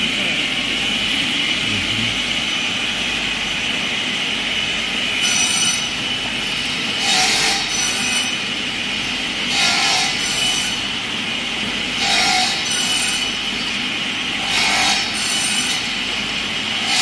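A multi-saw STP-M cross-cutting machine runs steadily at medium speed, cross-cutting wooden bars about 1.5 m long; a continuous mechanical drone is punctuated by several loud, roughly evenly spaced bursts of blades biting through the wood.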